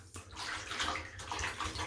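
Water splashes and sloshes as a baby magpie is bathed by hand, uneven close wet splashing in short bursts with no speech over it.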